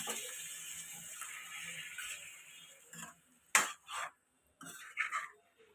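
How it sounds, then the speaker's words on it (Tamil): Small chicken pieces get stirred in a pan while cooking, producing soft scraping and light clinks of a utensil against the pan in a few brief, close strokes with quiet gaps between them. "சின்ன சின்ன பீசஸாக இருக்கிறனால அது எல்லா பக்கமும் வேகிற மாதிரி நம்ம இந்த மாதிரி கலந்து விட்டுக்கணும்"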